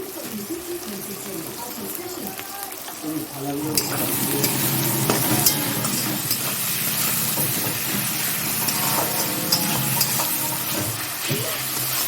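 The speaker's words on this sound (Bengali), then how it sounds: "আর এইদিকে পেঁয়াজটা খুব লালভাবে ভাজা হয়ে গেছে" Onions frying in a pan during home cooking, a steady sizzle with stirring and scraping that grows louder partway through, under light kitchen clatter.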